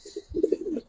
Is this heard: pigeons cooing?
yes